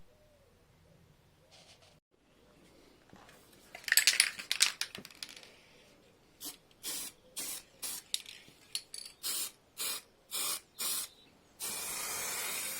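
Spray paint hisses in a rapid series of short, loud, evenly spaced bursts as chassis paint goes onto Triumph TR7 front suspension strut tubes, ending in one longer continuous spray, with softer handling noises before it.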